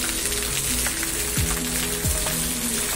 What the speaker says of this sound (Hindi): बारिश अचानक से बरस गया और कितना ज़्यादा बारिश हो रहा है आप देख ही सकते हो